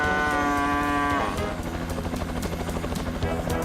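A cow gives a long, loud moo that fades out, with the rhythmic thudding of a helicopter continuing beneath and after it.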